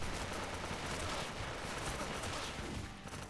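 KRISS Vector submachine gun fire in the online shooter Aim Online, a steady, dense stream of rapid shots and battle noise that continues throughout at an even, moderate level.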